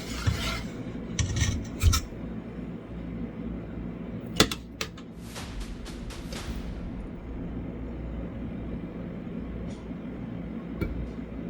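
A knife cuts down the middle of a disc of solidified rendered beef tallow in a bowl, giving scattered scraping and rasping strokes with a few sharp clicks, fairly close, followed by a quieter stretch of low background noise.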